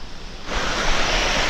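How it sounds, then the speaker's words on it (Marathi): A small waterfall of water flowing over a dam near rice fields gives a steady, loud broadband rush, starting just under half a second in and continuing to the end. "धरणावरून पण पाणी वाहायला लागले मस्तपैकी हा बघा इथे एक छोटा मस्तपैकी धबधबा"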